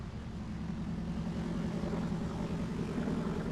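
A Beechcraft D18 Volpar's engines drone steadily in flight in a flight simulator over Guam, a constant low, loud hum with no voices.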